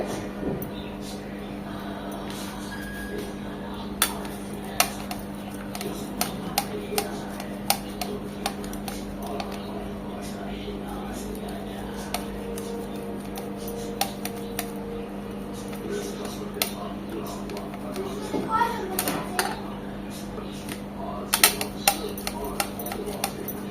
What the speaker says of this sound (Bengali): এখন এই তিনটা ডিমে আমি গ্রেট করে নেব এক এক করে